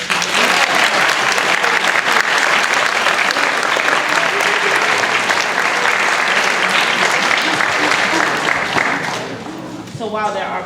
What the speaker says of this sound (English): round of applause for the class of 2018